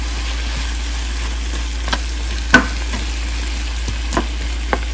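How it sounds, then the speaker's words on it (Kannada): Drumstick vegetable pieces frying with a little turmeric powder while being mixed in the pan, a low steady sizzle broken by a few sharp spoon knocks and scrapes against the pan. "ಸೊ ಇದನ್ನು ಚೆನ್ನಾಗಿ ಮಿಕ್ಸ್ ಮಾಡೋಣ."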